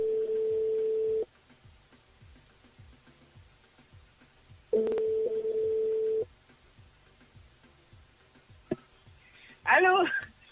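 A telephone line rings for a French-language radio call-in game show, with long steady tone bursts separated by gaps, a brief click and a short burst of voice near the end.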